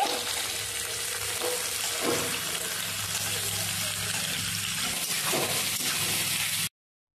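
Sliced onions with salt frying in a pan for a mutton curry, a continuous loud sizzle broken by a few scraping stirs before the sound cuts off abruptly.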